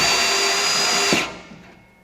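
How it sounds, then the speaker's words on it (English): A power drill drives screws slowly under pressure into the timber of a raised vegetable garden bed, whirring steadily and loudly close by for about a second before winding down and stopping. "So you're drilling slow with pressure."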